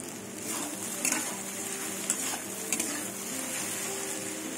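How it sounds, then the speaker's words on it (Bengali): Taro stolons fry in a pan, giving a soft continuous sizzle with a few light knocks of a spoon or spatula stirring against the pan. The sound is close, and no one speaks. "লতিগুলো একদম লাল লাল করে ভেজে নেব"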